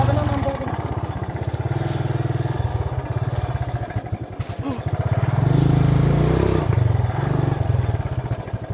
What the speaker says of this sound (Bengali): মাঝে আমাদের বাইক কাদার মধ্যে আটকে গেল